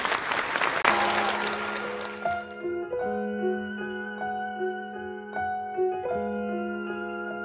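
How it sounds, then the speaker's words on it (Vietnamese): Audience applause bursts out loudly at a televised children's singing competition, then fades within a few seconds as piano and music take over. "Một tràng pháo tay cho Đức Vĩnh và Quỳnh Anh."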